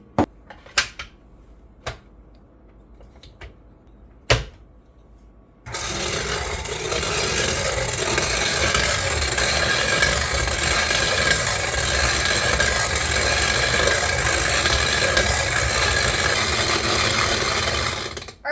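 A KitchenAid shaved ice attachment fitted with the fine blade grinds ice in a loud, steady mechanical whir that runs continuously for about thirteen seconds, following a few sharp clicks and knocks.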